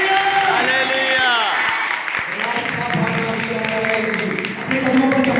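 A church congregation claps and cheers during a lively worship service. The applause is loud and dense and continues the whole time, with a preacher's raised voice and some whoops over the top.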